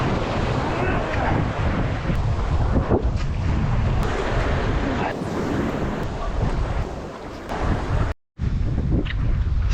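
Strong wind buffets the microphone while waves crash and wash against a secluded rocky headland in Indonesia, a loud, turbulent roar with a brief cutout near the end and a voice talking over it.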